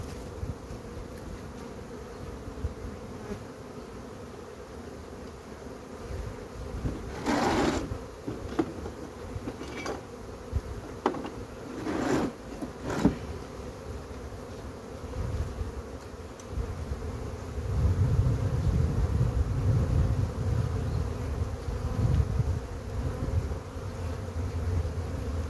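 A honey bee colony too large for its hive hums in a steady dense drone while being moved to a new hive, the buzzing swelling louder toward the end with a few brief sharper bursts of bees passing close.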